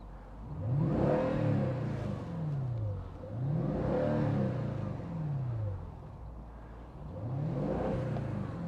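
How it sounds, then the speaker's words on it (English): A deep V8 exhaust note from a 2010 Mercedes-Benz E500 5.5 V8 cabriolet, rising and falling in three long revving surges, loud and close, with no talking. "it's a really beautiful engine noise, exhaust note"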